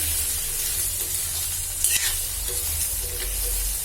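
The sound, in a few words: frying and stirring vegetables in a pan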